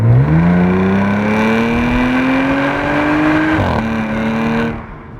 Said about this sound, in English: that noise it creates from that incredible 3-litre supercharged V6 is just sensational